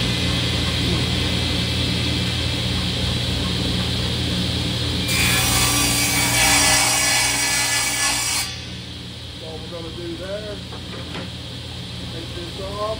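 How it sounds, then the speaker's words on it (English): A power saw cuts a small piece of walnut in a woodshop: a steady motor drone, then a louder rasping cut lasting about three seconds before the blade runs on more quietly. "I'm going to run this through there and just get me a little piece of walnut off of it."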